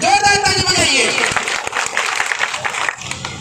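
Audience at a political rally clapping in a burst of applause, loud at first and gradually thinning, with a voice over the top.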